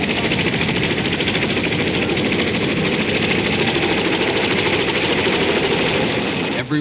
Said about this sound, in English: More than 80 helicopters shuttling people out to the carriers.